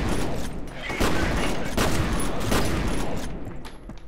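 Loud, close explosions and heavy gunfire in the shooter game F.E.A.R. come as grenades go off in a dense, chaotic burst that gradually tails off.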